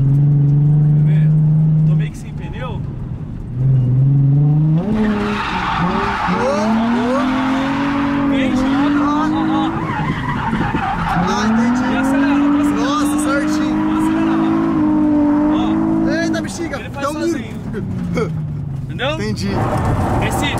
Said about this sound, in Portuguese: pra você fazer o carro deslizar mais longe, faz assim, ó